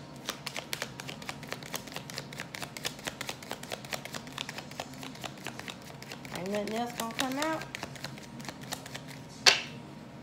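A deck of tarot cards being shuffled during a card reading, with rapid, close riffles and taps that come in bursts and end in a sharp snap, while someone talks over them.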